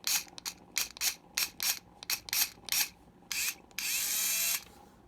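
Hyper Tough 4-volt straight-grip rechargeable screwdriver unscrewing, close and loud: a string of short whirring motor bursts with ratcheting clicks, ending in one longer continuous run.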